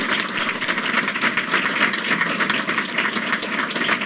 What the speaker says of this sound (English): I'd just like to give them a round of applause and thank you for choosing Westmont for this development